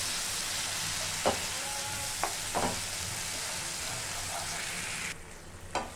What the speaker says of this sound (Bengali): লো ফ্লেমে রেখে মশলাটা আমি কষিয়ে নেব